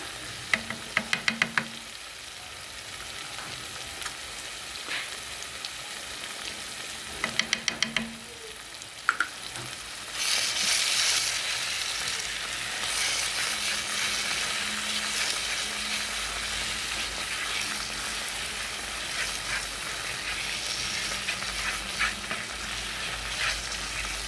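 Garlic sautéing in oil in a pan for Ethiopian pumpkin stew, a continuous close sizzle with a few sharp utensil clicks early on, then a louder, brighter frying hiss after a burst of added moisture.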